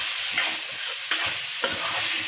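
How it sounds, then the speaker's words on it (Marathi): Chopped onion frying in a pan with asafoetida, green chillies and curry leaves, a steady close broadband sizzle with a few scraping stir strokes, no voices. "आता आपण कांदा टाकूया. चांगलं परतून घ्यायचंय."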